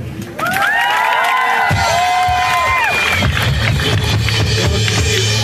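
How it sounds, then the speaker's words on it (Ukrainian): A concert crowd at the Porto Franko 2018 pre-party cheers loudly, with whoops, shrill whistles and clapping, in a dense, sustained roar that swells suddenly and continues throughout. "Плескайте."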